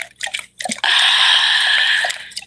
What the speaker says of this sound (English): This sneaky little dog just drank my water.